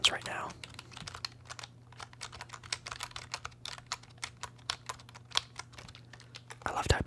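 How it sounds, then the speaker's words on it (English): Rapid clicking of computer keyboard keys at close range in a quiet room during a relaxing live ASMR stream, steady irregular taps with a low constant hum underneath. "Hopefully you guys can see that I'm doing my typing sounds right now."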